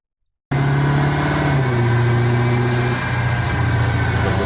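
BMW Alpina B7 with a 4.4 liter twin-turbo V8 running on a dyno, a loud sustained engine drone that starts abruptly and shifts pitch through the run, alone without talk.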